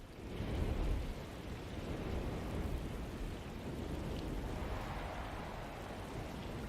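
Steady rain with a low thunder rumble in a haunted-house horror video game, a continuous broadband wash that swells briefly near the start and then holds an even, moderately loud level with no voices.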